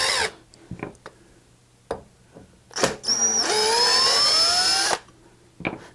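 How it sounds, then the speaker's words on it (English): A DeWalt screw gun drives a screw for about two seconds, its motor whine rising in pitch as the screw seats. Short clicks and handling knocks come before and after the run. "we are here with our handy dandy DeWalt driver, screw gun driver."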